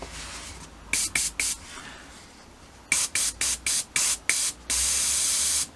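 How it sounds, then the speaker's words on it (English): An airbrush sprays air and paint in short hissing bursts, three quick ones followed by a pause, then six more and a final longer steady spray, close and fairly loud. "Never be scared of an airbrush. Air comes in, paint comes in, meets the air"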